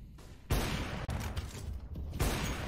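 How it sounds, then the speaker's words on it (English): AWP sniper rifle shots in a professional Counter-Strike match on Mirage, two sharp loud cracks about a second and a half apart over steady game noise. "Random AWP shots coming out"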